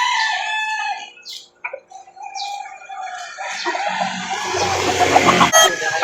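Roosters crow and chickens cluck at a livestock market in Laguna, with several loud, close calls overlapping amid busy crowd background noise.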